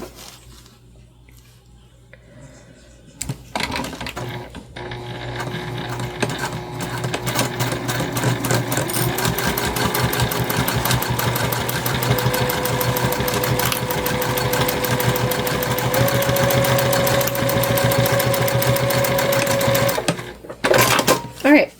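A sewing machine stitches together rustic ghost-themed book sleeves, a long continuous rapid whirring rattle under a person talking.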